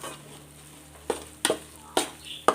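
Kozhukatta mixture being stirred in a pan: four sharp scraping strokes spaced irregularly over a low background, fairly close, no talk.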